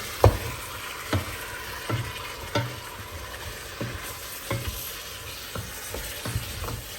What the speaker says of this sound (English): we open it and then mix it a little bit so it does not stick from the bottom